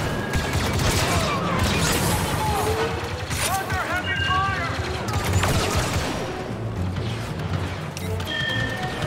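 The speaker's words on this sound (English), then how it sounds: "Under heavy fire!" Heavy battle gunfire in the video game Star Wars Battlefront 2 crackles in dense overlapping volleys with crashes and laser-like whistles, loud and continuous, while voices talk over the action.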